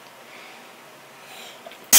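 A single sharp sneeze bursts out loudly and close at the very end, after a quiet classroom stretch with faint room noise.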